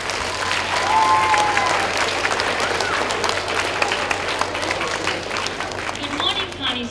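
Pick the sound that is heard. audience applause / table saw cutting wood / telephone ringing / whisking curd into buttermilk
audience applause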